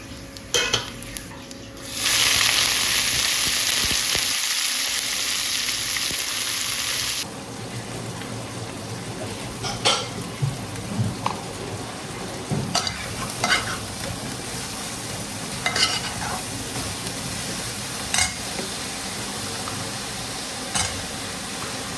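Cabbage cooking on a stove: a loud, hissing sizzle swells for several seconds, then settles into quieter frying broken by sharp spoon scrapes and knocks on the pan.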